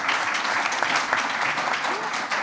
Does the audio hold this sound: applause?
yes